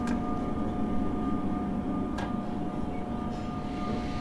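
A Train Sim electric commuter train on the Morristown Line runs under electrical braking, giving a steady, loud rumble with a thin, constant motor whine and a couple of faint clicks, with no voices.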